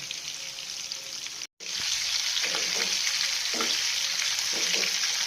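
Hot oil poured over curry leaves for a Kerala-style fish fry sets off a loud, steady sizzle that crackles continuously, broken only by a momentary cut, with no voices.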